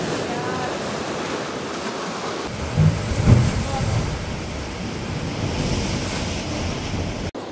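Ocean waves surge and crash close by on the Madeira coast with a constant roar, wind buffeting the microphone and a heavier breaker hitting midway.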